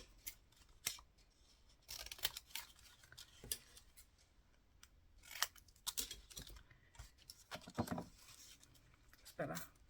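Scissors cutting: a string of quiet, crisp snips and rustles at irregular intervals, clustered in short bursts, with faint, soft voices in between.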